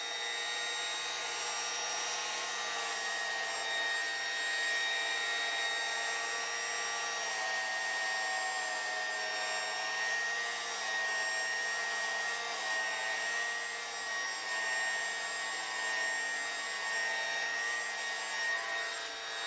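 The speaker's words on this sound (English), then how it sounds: "The vacuum cleaner!" A vacuum cleaner runs close by with a steady high-pitched motor whine that drones without pause, even and unbroken throughout.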